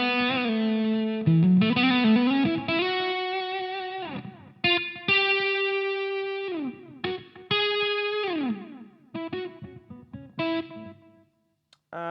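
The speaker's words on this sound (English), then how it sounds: "Should we add some reverb? Let's add some reverb. So let's add a room." Electric guitar through delay with added room reverb: distorted sustained notes and chords with bright harmonics, each phrase trailing into echoing repeats and decay, played alone.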